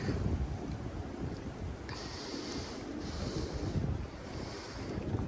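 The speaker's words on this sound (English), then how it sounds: "It's a little windy." Steady wind rushes and buffets outdoors, a broad continuous roar with gusty swells and no other clear sounds.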